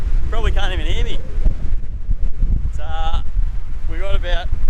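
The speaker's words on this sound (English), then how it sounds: "Holy doolies, it's windy. Probably can't even hear me." Strong wind gusting across an open beach in East Arnhem Land, a loud continuous roar and buffeting on the microphone throughout, with someone talking in short bursts over it.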